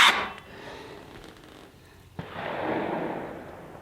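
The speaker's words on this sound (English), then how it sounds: "Look over the gunfire." A sharp gunshot cracks once in the distance from a neighbor's shooting, followed by a long rolling echo, with a loud burst at the start over steady outdoor background noise near a sawmill cutting crotch walnut logs.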